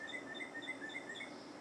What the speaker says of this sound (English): you can also hear the cardinal in the woods back here